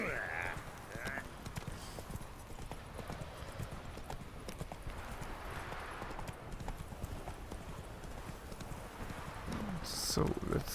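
Roach the horse gallops in The Witcher 3, a steady rhythmic clip-clop of hooves running on a road, loud and continuous throughout, with someone talking over it and a brief whinny near the end.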